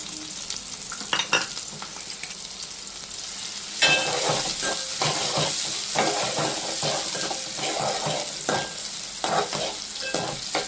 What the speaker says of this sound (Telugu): కొంచెం గోల్డెన్ బ్రౌన్ కలర్ వచ్చే వరకు ఇలా వేయించుకోవాలి.